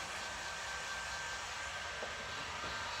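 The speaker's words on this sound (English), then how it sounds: "we warm the heat gun up" A heat gun runs with a steady, even blowing roar throughout, close by and unchanging, as it warms up before heating boat registration numbers onto an inflatable boat; no talking.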